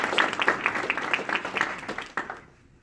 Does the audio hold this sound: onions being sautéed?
no